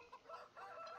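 Chickens in Farming Simulator 17, heard as a brief, faint burst of clucking in a quiet background.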